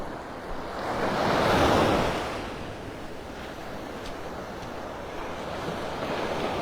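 Surf washes onto the beach at Delnor-Wiggins near Wiggins Pass in North Naples, Florida, one wave swelling and receding close by over a continuous breezy roar, with no voices.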